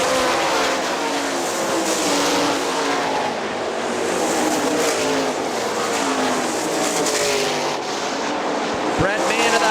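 Sprint race cars roar around the Hartford Speedway oval in a Great Lakes Outlaw Sprint Series race, their engines loud and continuous with rising and falling pitch, while an announcer talks over the racing.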